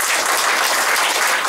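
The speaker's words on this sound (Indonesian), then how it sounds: "Setuju, tepuk tangan bagi Yesus." A church congregation breaks into applause during a sermon, a loud, dense wash of clapping that fills the space evenly throughout.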